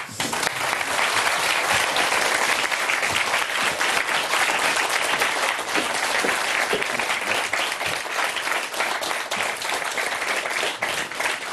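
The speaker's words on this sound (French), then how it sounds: "Applaudissements." Studio audience applause on a French television show, loud dense clapping sustained evenly throughout with a few cheers mixed in.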